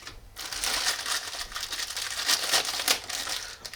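Close, continuous crinkling of a plastic bag wrapped around a replacement starter clutch assembly for a Harley-Davidson starter motor, with irregular bursts of rustling.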